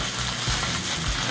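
Costco pork belly searing in oil and butter in a pan, a continuous crackling sizzle with soft bubbling and occasional stirring scrapes, close and steady with no voices.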